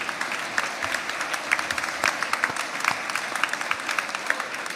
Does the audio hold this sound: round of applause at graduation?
yes